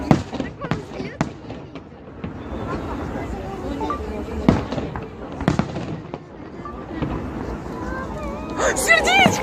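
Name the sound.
fireworks display bursting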